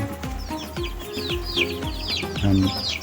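Young broiler chickens about three weeks old cluck and cheep over each other in a lively, close-up flock, with rapid chirps layered on low murmuring.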